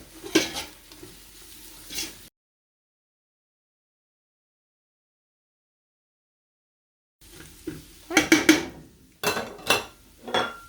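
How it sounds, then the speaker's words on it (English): Fresh ginger, garlic, chili powder and turmeric fry in a pot for spinach mutton, with quiet sizzling and spoon scrapes in two short bursts separated by about five seconds of silence, the later burst louder with sharp clacks. "fresh ginger, fresh garlic and our spices, chili powder and turmeric, and cook stirring for about 30 seconds"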